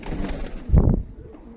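A pigeon gives one short, deep coo close up, a brief throaty burst standing out from quiet background noise.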